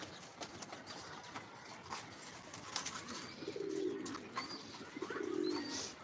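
Pigeons coo softly in a loft in the afternoon, low rolling coos rising twice amid faint chirps and a quiet outdoor background, with no talking.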